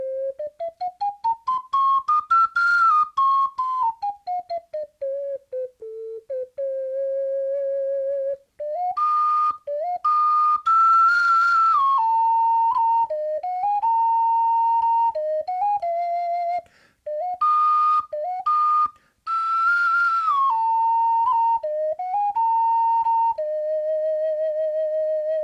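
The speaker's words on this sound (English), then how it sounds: "how does the OcarinaWind Strawfire actually sound?" OcarinaWind Strawfire ocarina played solo, clear pure whistle-like tones in a melodic line with sliding and stepped notes, sustained phrases separated by short breath pauses, close and fairly loud.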